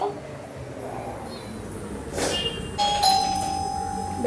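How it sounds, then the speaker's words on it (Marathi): A home doorbell rings partway through, a sustained electronic tone that starts sharply and holds for about a second over quiet room noise, after a brief rustle. "बेल वाजली कोणीतरी आले."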